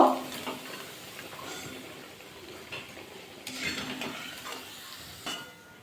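Fried cabbage koftas are lifted out of hot oil in a kadai. A faint, low sizzle runs under occasional light clinks and scrapes of a utensil against the pan.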